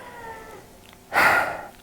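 A house cat gives one loud, drawn-out meow close to the microphone, rising out of a steady background hum and fading after about half a second.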